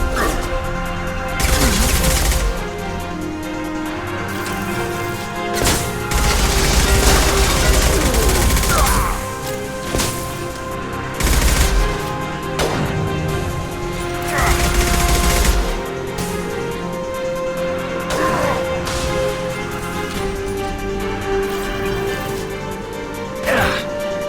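Heavy gunfire and impact shots crash out in repeated loud bursts during a Mass Effect 2 firefight, with sharp booms between sustained volleys and a dense, close mix of combat noise.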